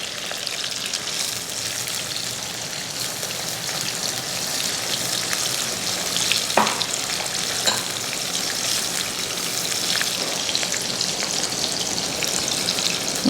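Green tomatoes frying for sambal as kaffir lime leaves go into the pan. A loud, steady crackling sizzle runs throughout, with a couple of brief sharper pops and no talk.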